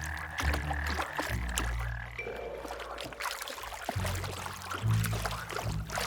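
Cane toads croak in a steady, fairly close chorus of low, throaty calls with some watery splashing mixed in, and no voices are heard.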